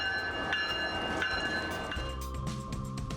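Passenger train on the trip south to Whittier, Alaska, a steady rumble of rolling rail cars with faint clicks and a sustained tonal whine, close and continuous.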